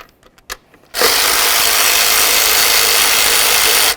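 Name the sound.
power tool removing upper bolts on a 2005-14 Ford Mustang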